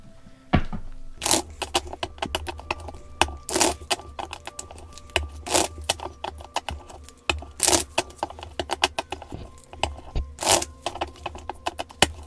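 Everyday Witches Tarot cards being shuffled up close, a series of crisp riffling bursts and soft clicks repeating every couple of seconds, with no talking.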